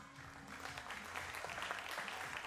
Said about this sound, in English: have them, applause!